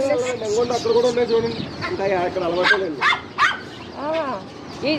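A rooster clucks in a backyard among chickens and a dog, giving rising and falling calls up close, with barking and chatter mixed in.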